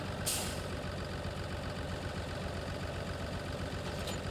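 A farm tractor idles steadily with its front loader about to be attached, giving a continuous low diesel rumble at close range with a brief hiss near the start.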